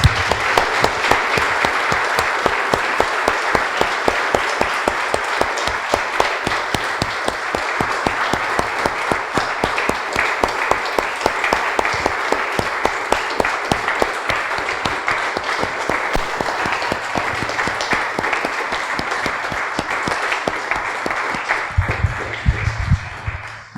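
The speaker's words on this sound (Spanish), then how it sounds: "Damos un aplauso, hermanos." A church congregation claps together in a long, steady rhythm, with sharp, evenly spaced beats that stay loud and close for over twenty seconds before stopping abruptly.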